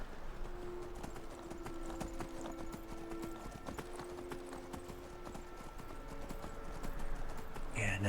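Steady clip-clop of horse hooves while riding in the video game Skyrim, quiet and continuous under soft in-game ambience with a faint whinny-like tone.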